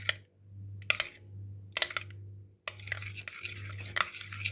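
Spoon stirring half a teaspoon of baking soda into a yogurt cookie dough mixed with egg, with repeated scraping strokes and clinks against the bowl, close and fairly quiet, over a steady low hum.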